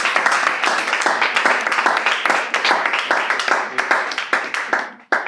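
Audience at a poetry slam prelim in Accra bursts into steady, loud clapping and applause, sustained for several seconds before cutting off abruptly.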